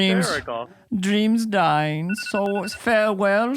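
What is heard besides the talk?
phone ringing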